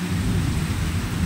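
A deep, continuous rumble of thunder over the roar of heavy rain, loud and close, with no talking.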